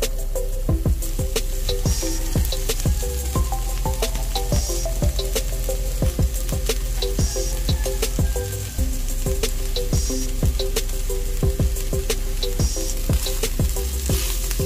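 Shredded chicken frying in a pan for chicken pastil flakes, a dense continuous sizzle with repeated stirring scrapes and clicks, steady and close, no talking.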